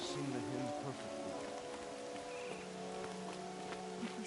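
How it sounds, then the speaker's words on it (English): Rain falls steadily in the Horizon Zero Dawn video game, a dense, even hiss of drops that holds for the whole stretch alongside soft tonal game music, with no talk. "More rain. My boots will get damp."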